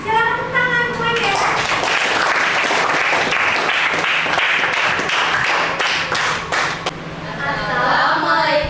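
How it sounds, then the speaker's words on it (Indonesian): A classroom of students claps together, a brisk, dense burst of applause close by, bracketed by voices talking briefly before it starts and again as it dies away. "Silakan tepuk tangan semuanya."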